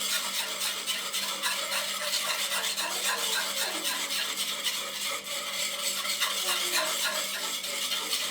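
Cheese sauce with pasta is stirred continuously in a pot, giving a steady, close, wet scraping and sloshing texture with no pauses and no voices.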